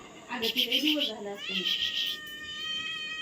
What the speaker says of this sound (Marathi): ती मांजर आहे